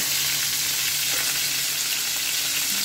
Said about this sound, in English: So we just want to make sure that it is seared.